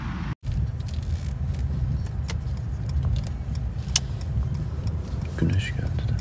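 A 2016 Mercedes E220d diesel car heard from inside on a test drive, with a steady low road and engine rumble throughout, a brief cut near the start and small cabin clicks and rattles.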